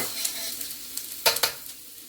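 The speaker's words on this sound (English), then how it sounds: "Make sure you don't burn your garlic. Just keep stirring it." Garlic and onion stirred in a frying pan, giving a faint, steady sizzle with a few sharp spoon scrapes clustered near the end.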